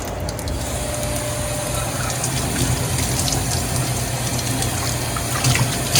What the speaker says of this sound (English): We can go ahead and rinse off our soap.